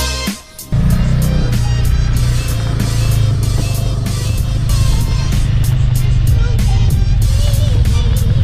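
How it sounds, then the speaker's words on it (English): Cars sit in a traffic jam, their engines forming a loud, steady rumble close by, with faint repeated clicks and a few brief voices mixed in over the drone. "Traffic jam."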